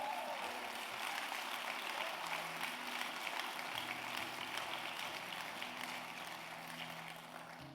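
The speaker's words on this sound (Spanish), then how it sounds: "denle un aplauso al Señor" Church congregation applauding steadily after a pastor's call, a dense wash of clapping that slowly fades toward the end, with no voices over it.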